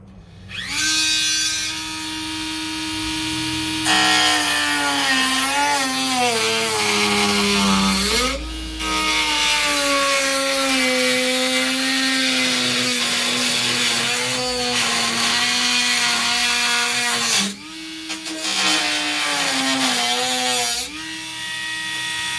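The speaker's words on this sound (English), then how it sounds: "Die grinder," Die grinder with a cutting wheel slicing through the fiberglass body of a 1969 Corvette C3, a loud, steady high-pitched whine that dips and rises as it bites. The whine is briefly interrupted twice, and no one speaks.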